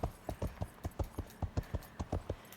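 A horse cantering in a beginner riding lesson, its hooves striking in quick, steady three-beat groups, close and fairly loud with no talk over them.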